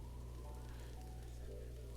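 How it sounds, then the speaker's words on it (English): Steady rainfall in the video game Breath of the Wild, a continuous hiss of drops pattering on surfaces with no talking, an even wash of sound throughout. "Rain, yep."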